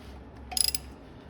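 A ratchet wrench tightening bolts on a 1969 Buick Skylark starter gives a quick, faint run of about five clicks near the middle, close by in an otherwise quiet space.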